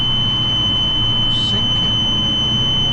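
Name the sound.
drilling rig squealing as its fan speed drops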